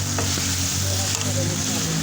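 Cauliflower hisses and sizzles as it drops into a pan of hot whole spices, a loud continuous frying crackle with light stirring.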